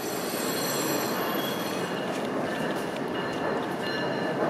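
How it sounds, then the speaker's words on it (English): A train rolls past close by in Toronto, its wheels squealing and screeching steadily as the cars go by, loud and continuous with no talking. "There's a train coming!"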